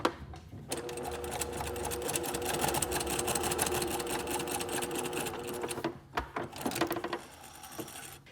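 A sewing machine stitching a curved bodice seam with gathering stitches at 1/4 and 5/8 inch: a steady, fast, close mechanical hum and clatter that runs for several seconds, then stops and restarts in short bursts.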